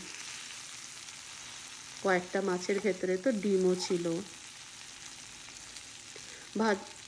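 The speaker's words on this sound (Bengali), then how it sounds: "মাছগুলো হালকা করে ভাজবো আর হালকা করে নাড়বো" Small topse fish frying in a pan, a soft steady sizzle running low beneath a voice speaking in two bursts.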